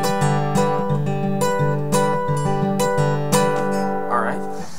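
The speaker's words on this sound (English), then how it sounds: "now we're going to use a picking pattern on only a couple of the chords in the song, this being one of them." Acoustic guitar fingerpicking pattern from a song, played close and clear as a steady, rhythmic cycle of plucked chord notes ringing alone, with no talking.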